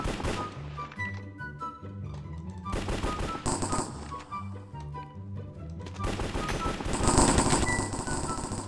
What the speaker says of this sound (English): They have like machine guns.